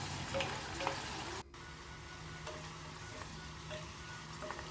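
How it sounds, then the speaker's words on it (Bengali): Chicken pieces frying in a chilli and pepper masala for a lemon chicken dish, a steady close sizzle with scattered crackles and a brief stirring clatter, no voices. "একে একে আমি চিকেনের পিসগুলোকে দিয়ে দিয়ে ভালো মতো কষিয়ে নেব"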